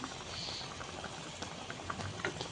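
Onions drop into a hot cooking pot and set off a steady, quiet sizzle with scattered soft pops and light pattering throughout.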